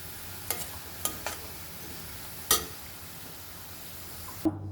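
Onions fry in hot oil with a soft, steady sizzle, broken by a few sharp clinks of a utensil against the pan.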